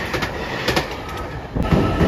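The white Anpanman-liveried Shiokaze Ishizuchi limited express train rushes past a station, a loud, steady roar of wheels and rails with clattering that swells toward the end.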